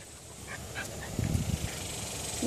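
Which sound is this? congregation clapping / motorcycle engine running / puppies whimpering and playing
puppies whimpering and playing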